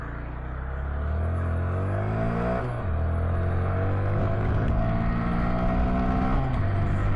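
A Honda Grom motorcycle on the move: a continuous, loud engine drone that rises in pitch through the gears, dips briefly at a shift, then climbs again, heard up close with wind rush and no talk.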